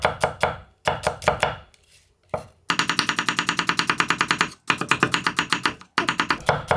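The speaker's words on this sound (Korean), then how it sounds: "양파를 그냥 다른 거 없어요. 아주 곱게 편썰게 했어요. 이때 되도록이면 얇게 써세요." Knife thinly slicing new onions on a cutting board, a fast run of crisp, evenly spaced chops in several bursts separated by short pauses, close and loud with no talking.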